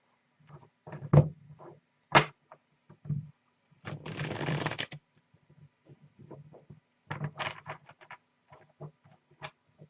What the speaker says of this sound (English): let's shuffle well the Illuminati deck